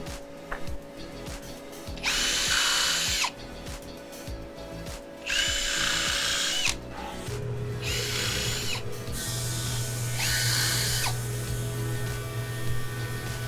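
A power drill bores screw holes in a wooden window weight access door, close by, in several loud whirring runs of a few seconds each, separated by brief pauses.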